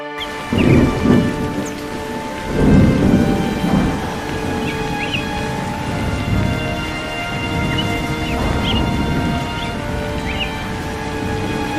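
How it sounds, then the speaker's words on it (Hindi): Cartoon rainstorm with steady hissing rain and repeated rolling thunder rumbles swelling and fading every couple of seconds, loud and close, with faint bird chirps over the top. "ये लो, ये बारिश शुरू हो गई।"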